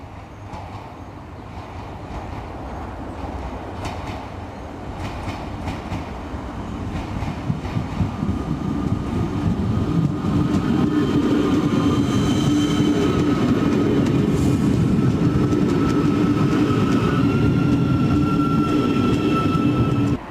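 Euskotren train unit 960 on the Urdaibai branch passes toward Bermeo, a steady rumble of wheels and motors that swells from moderate to loud and holds close by, with faint high squeals over it.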